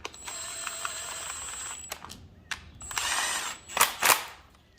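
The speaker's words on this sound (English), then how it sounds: "And then finish it off with a ratchet." Ratchet clicking as it tightens the bolts of a valve cover on a 2009-or-later Hyundai Genesis 3.8L engine, in several short bursts of close mechanical ratcheting with brief pauses between.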